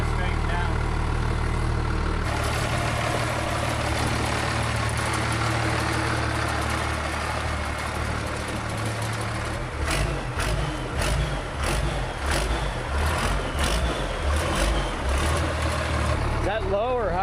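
A 12-valve Jaguar double-cab off-road wrecker truck runs with a steady, rumbling engine note close by, and people talk over it throughout.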